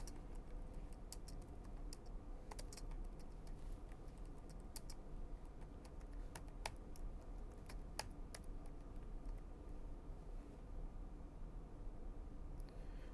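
Java code is typed on a computer keyboard in quick, irregular bursts of light key clicks, faint and close over a quiet steady hiss, with no speech.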